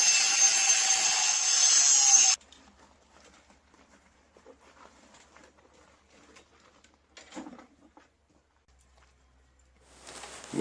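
Angle grinder grinding paint off a steel pallet fork bucket, a loud harsh whine up close for about two seconds before cutting out, then faint handling clatter and a brief return at the end.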